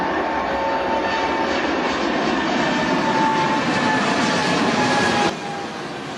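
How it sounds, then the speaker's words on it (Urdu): Jet aircraft passing overhead make a loud, steady, broadband roar that holds for about five seconds and then drops off abruptly. No voices are heard. "مجھے جیٹ طیارے کی آوازیں سنائی دے رہی ہیں۔"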